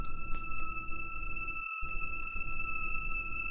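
Two eerie synth pads from Analog Lab V layer into a sustained, tense chord of steady tones over a hazy bed, with a brief dropout midway and faint pulses.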